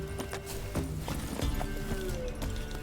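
Roach the horse galloping in The Witcher 3, rapid rhythmic hoofbeats on the ground running steadily and fairly close, with music and ambient game sound behind.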